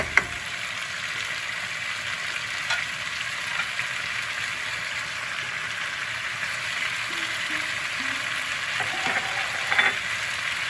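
Green chillies frying in oil for a cauliflower and Gobindobhog rice curry, giving a loud, continuous crackling sizzle with faint occasional stirring knocks.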